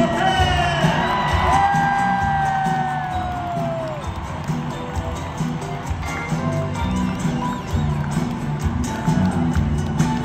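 A concert crowd at a reunion show in Arlington, Texas cheers, whoops and applauds for the band's bassist, loud and sustained with shouts rising over the noise and music faintly underneath.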